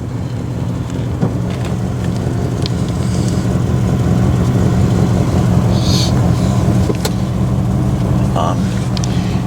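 A 1994 Cadillac Sedan DeVille idles in a cemetery, giving a steady low engine rumble mixed with broadband wind-like noise and a few faint clicks, with no revving.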